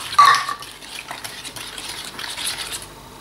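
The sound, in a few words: stirring eggs and double cream for ube ice cream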